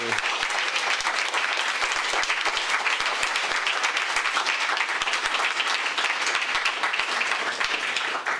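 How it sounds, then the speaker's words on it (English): Sustained crowd applause fills the hall at a political party congress, thick even clapping with occasional sharper claps standing out. "can you put your hands together and give one more round of applause to..."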